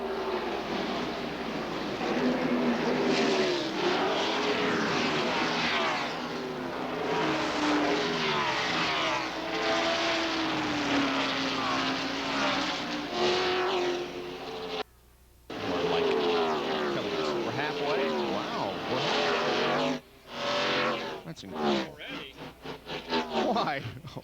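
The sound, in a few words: NASCAR race cars racing at 1997 Primestar 500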